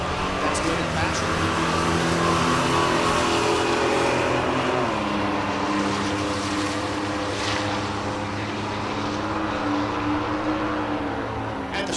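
Drag racing at Texas Motorplex with a Buick in the left lane and a Buick Turbo T-Type in the right, a continuous roaring engine drone that shifts pitch midway, with a commentator talking throughout.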